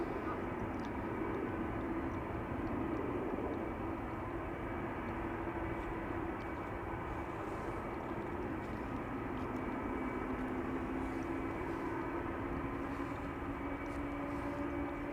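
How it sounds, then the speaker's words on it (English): Jet airliners pass over Amsterdam Schiphol Airport, a larger and a smaller one, giving a steady, broad engine roar that holds at moderate distance across the whole stretch without easing. "Got 2 jets on their way over here, a big one and a smaller one."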